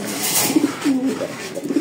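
Racing pigeons coo in soft, low, throaty bursts close by, a few repeated murmuring calls over a faint background hum.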